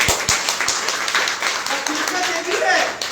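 Training program audience clapping together, a few sharp claps at first swelling into sustained applause, with voices murmuring underneath.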